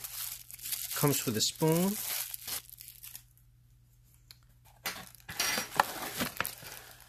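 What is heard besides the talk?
opening the packaging of a stainless steel coffee mug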